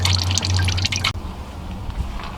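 Radiator coolant draining from a Volkswagen 2.0L engine into a container, with rapid dripping and trickling that stops abruptly, followed by quieter drips.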